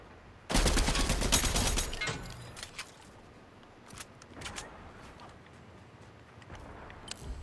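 A shotgun firing in the Fortnite video game, with a loud dense burst of gunfire near the start, then scattered sharper shots and clicks trailing off at lower level.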